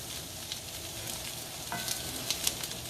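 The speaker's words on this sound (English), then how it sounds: "we're going to give our purple cabbage, our red cabbage a stir." Red cabbage caramelizes in a hot pan, a loud close sizzle with a stirring scrape midway and a few sharp pops.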